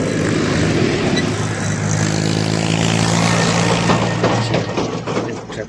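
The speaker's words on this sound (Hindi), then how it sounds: "ट्रैक्टर क्रॉस कर रहा था" A tractor crosses past on a road during a morning outdoor exercise session, its engine a loud, steady rumbling drone close by that swells and then gradually fades away.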